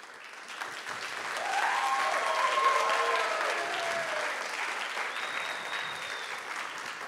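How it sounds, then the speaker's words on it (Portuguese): An audience at a hypnosis show bursts into sustained applause, a dense wash of clapping that swells, holds steady and tapers slightly, filling the room with no talk over it. "Uma salva de palmas para os nossos astros."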